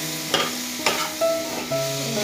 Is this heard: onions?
yes